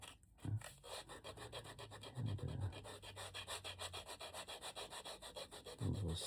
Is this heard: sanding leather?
yes